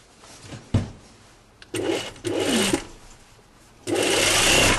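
A sewing machine stitches a jacket seam in several short bursts of running, then a longer steady run, loud and close, with brief pauses between.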